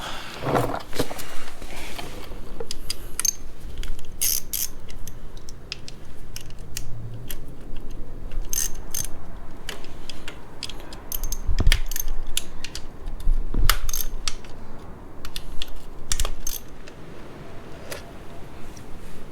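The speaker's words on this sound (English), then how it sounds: "next up we'll remove all these bolts around the clutch cover" Clutch cover bolts loosened on a Suzuki V-Strom DL650 motorcycle: a close ratchet clicks in short bursts, with metallic taps and the clink of bolts set down, in a quiet workshop.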